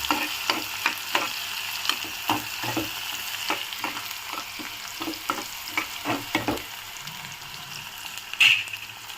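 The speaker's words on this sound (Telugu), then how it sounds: "ఇప్పుడు ఇందులోకి ఆనియన్స్, ఎండుమిర్చి వేసుకుందాము. ఇవి కొంచెం బ్రౌన్ కలర్లో వేగాలి." Onions and dried red chillies fry in hot oil with mustard seeds and cumin, sizzling steadily while a spoon stirs and scrapes the pan in repeated clicks, with no talking.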